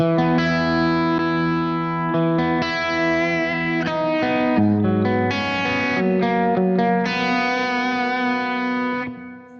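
A James Tyler Dann Huff Black Classic electric guitar rings out sustained chords through effects, with a noticeable tonal shift as parallel mode engages partway through, loud and close before fading at the end.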